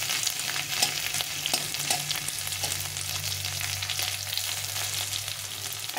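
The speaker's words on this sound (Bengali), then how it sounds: "তো এটাকে একটু ভালো করে ভেজে নিতে হবে" Dried red chillies fry in hot oil in a pan for a vegetable lentil dal, with a constant close sizzle and occasional scraping stir strokes throughout.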